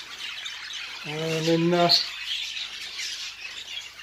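Breeding-loft birds calling, with one cock bird giving a single harsh, tonal squawk lasting about a second amid soft background rustling, while someone speaks briefly over it.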